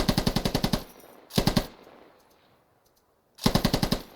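Machine gun fire in the military shooter game Squad: three loud, rapid bursts of evenly spaced shots, close and punchy, with quiet gaps between them and a fading echo after each burst.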